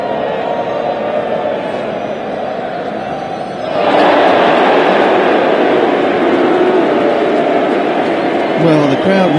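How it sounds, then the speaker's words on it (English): Cricket crowd at an England versus Australia Ashes Test match swelling into a loud, sustained roar of displeasure after an umpire's decision, rising sharply partway through and staying heavy, with a commentator's voice over the top. "Well, the crowd not happy."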